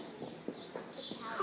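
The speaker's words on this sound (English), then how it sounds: "Look at the horse." A horse walks with a slow, even clip-clop of hooves on a Girl Scout horse-riding outing, the steps soft and fairly close amid faint background voices.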